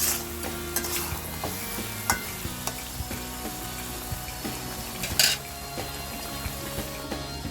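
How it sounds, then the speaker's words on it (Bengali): Chicken and pumpkin being stir-fried in a pan, a steady sizzle broken by repeated scraping and clacking strokes of a spatula, close and continuous with no talk. "এভাবে কুমড়োটা দেওয়ার পরেও আবার একটু নাড়াচাড়া করে কষিয়ে নিচ্ছি"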